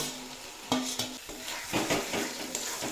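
Marinated chicken and softened onions stirred in a pan, a few close spatula scrapes and knocks over a light, steady sizzle.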